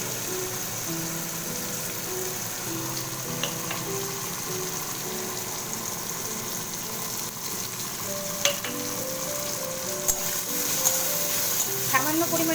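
Cumin paste and ground spices fry in a pan with a steady, moderate sizzle, joined by occasional stirring clicks and scrapes that grow slightly busier toward the end.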